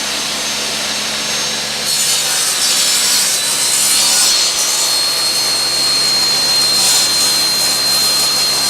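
Saw cutting wood for a rustic farmhouse coffee cup tree, a steady, loud rasping cut running continuously and growing a bit brighter after the first two seconds.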